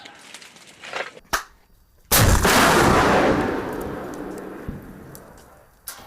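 A MANPADS missile fired by Ukrainian air-defence troops erupts in a sudden, loud roaring blast that slowly fades over several seconds, preceded by faint clicks and handling sounds.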